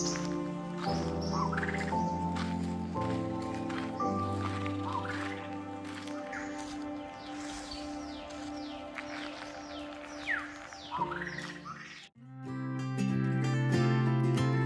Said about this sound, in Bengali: বিভিন্ন রকমের পাখির ডাক শুনে জঙ্গলের পরিবেশটা অনুভব করে